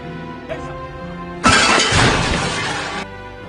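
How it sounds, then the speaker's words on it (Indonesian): In a Hollywood film scene, men wreck household belongings. A sudden loud burst of shattering and crashing, like breaking glass, runs for about a second and a half over a steady musical background. "Ratore dan anak buahnya sedang menghancurkan barang-barang di rumah Misra"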